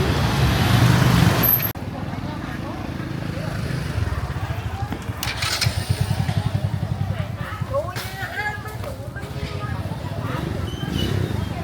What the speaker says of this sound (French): C'est blindé sur le pont, il n'y a que des scooters.